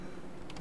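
A short burst of computer keyboard typing, a few quiet, close key clicks in quick succession.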